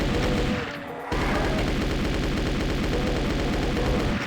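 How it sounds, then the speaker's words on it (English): Rapid automatic gunfire from a submachine gun in Doom II, shooting at revenants; a dense, loud continuous burst that pauses briefly near the start and then resumes steadily to the end. "I'm going to use the submachine gun to stun lock these revenants"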